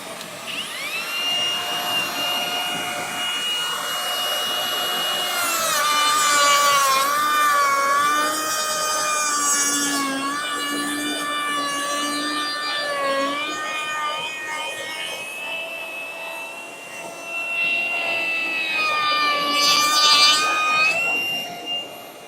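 A Ryobi 18V One+ compact router cuts into a butcher block with a vacuum attached, a loud, wavering high whine that rises and dips through the cut, with the vacuum's steady rush underneath and no talk.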